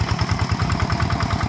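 A tractor engine idles close by with a steady, fast low chugging pulse, operated by a small child, a third-grade schoolboy, steady and loud throughout with no talk.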